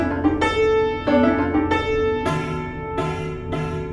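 Muted, plinking prepared piano notes with a damped, buzzy tone from discarded objects resting on the strings; several short strikes, close and fairly loud.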